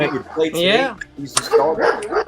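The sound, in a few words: dog barking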